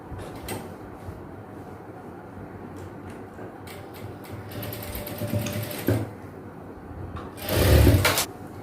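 A sewing machine stitches a belt piece onto girls' shorts with soft mechanical whirring and ticking, building into two louder, faster bursts of running stitches toward the end.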